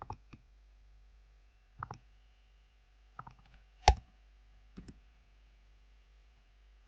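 Keyboard key clicks while copying and pasting Java code for a calculator in NetBeans: about six sharp, isolated clicks spaced irregularly over several seconds, close and fairly crisp against a quiet background, with no talk.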